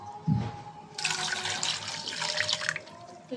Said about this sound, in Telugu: కొంచెం వాటర్ వేసుకున్నాను